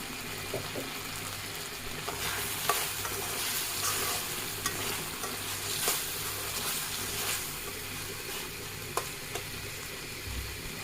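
Chopped tomato stirred and fried in spiced oil for a Bengali taki fish bharta, a steady soft sizzle with intermittent scraping stir strokes and occasional clinks, close and moderate, no talking.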